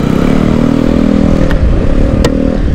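A gentsuki scooter engine running as the rider sets off on a village road near Nago, Okinawa, Japan, a loud steady droning hum close up with a couple of sharp clicks.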